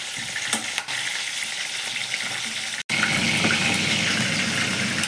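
Chicken sizzles hard in a frying pan, a loud, continuous crackle that dips and cuts out for an instant before returning even stronger.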